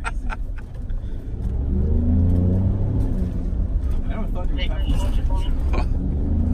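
A Baja race truck engine revs hard under full throttle on a watered clay-based track, a loud, close, sustained roar that swells as it accelerates, with a person talking over it.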